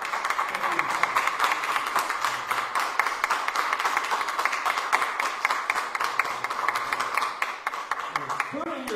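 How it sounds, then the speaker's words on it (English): A church congregation claps in steady rhythm through a Father's Day service, continuous and moderately loud, with voices mixed in under the clapping. "Let's give the Lord a clap offering."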